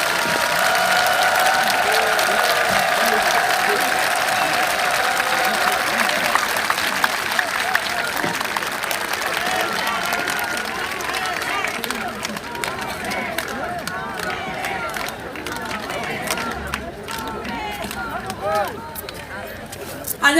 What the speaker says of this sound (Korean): 박수 한번 해주시겠어요?